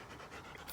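A former guide dog pants quickly and softly, a short faint burst of rapid breaths close by.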